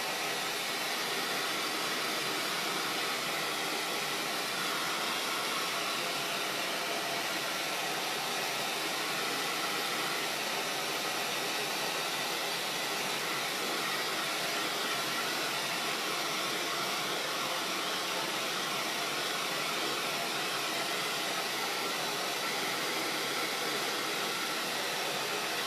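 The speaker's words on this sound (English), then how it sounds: "I'm going to go ahead and use the blow dryer one more time" A blow dryer runs continuously at close range, a loud steady airy whoosh with no change in pitch or level, and no voices.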